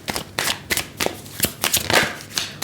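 Tarot cards being shuffled by hand, a series of crisp riffling bursts close to the microphone, repeated in quick succession with no talking.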